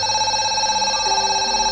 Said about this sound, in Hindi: एक पुराना टेलीफोन बूथ खड़ा था जो हर रात अपने आप बजने लगता था।